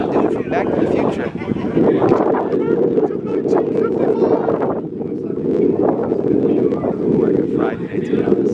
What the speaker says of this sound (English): The wind has been nuts. I don't know how bad the wind is.